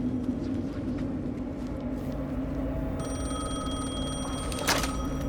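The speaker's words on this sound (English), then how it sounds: "The phone again." A telephone rings in the video game Alan Wake 2, a sustained bright trill that starts midway and carries on over a dense, low, rumbling ambient background.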